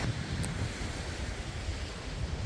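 Ocean waves wash onto a Bahamas beach under gusting wind, a soft, continuous surf wash with low wind rumble buffeting the microphone, fairly faint and without voices.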